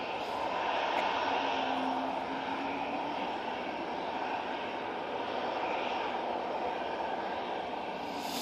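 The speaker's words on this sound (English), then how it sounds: "We've got this Easyjet in front of us. Set up Murcia. Using the A320-200 for this flight." An easyJet Airbus A320-200 at Manchester Airport gives a steady, loud engine roar that holds evenly throughout with no break.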